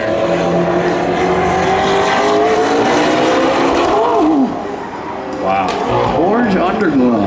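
Loud engines roar from a McLaren and a Dodge Charger lining up at a spectator drag racing event, rising and shifting through the run, with a brief dip midway before another engine surges, while people talk over it.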